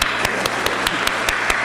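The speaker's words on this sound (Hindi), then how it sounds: "आप तालियां बजा सकते हैं।" An audience at a Hindi poetry recital claps in a steady rhythm, each sharp clap loud and close, around eight in quick succession with no talk over them.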